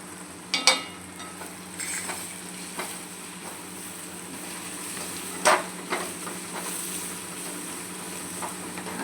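Spices sizzling in a pan for paneer bhurji, a soft continuous frying hiss broken by occasional sharp clinks and scrapes of a spoon stirring against the pan.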